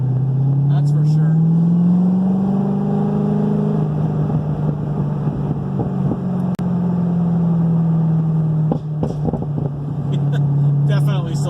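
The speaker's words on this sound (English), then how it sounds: "Definitely still does the pop-pops." A 2010 Corvette Z06 with a newly fitted exhaust idles with a deep, steady, throaty rumble that rises and falls slightly, broken by a couple of sharp pops near the middle and toward the end.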